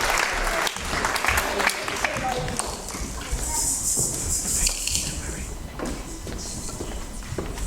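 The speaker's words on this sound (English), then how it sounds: "let's give them another round of applause as they go and sit down" A church congregation applauds at a Sunday service, with broadband clapping sustained and fairly close across the whole clip and murmuring voices underneath.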